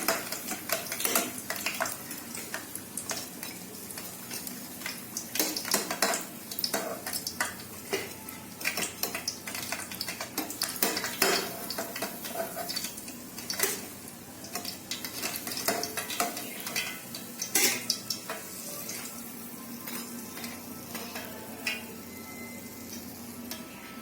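Sweet bonda fry in oil over a slow flame while being stirred, a soft continuous sizzle punctuated by frequent scraping and clinking of the utensil against the pan.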